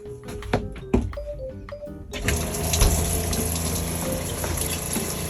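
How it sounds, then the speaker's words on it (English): Caravan sink tap, drawing from a water tank, is turned on after a few clicks and handling knocks, then water gushes steadily and loudly into the basin, continuing to the end. "Now I'm going to the sink and I'm going to turn on the water"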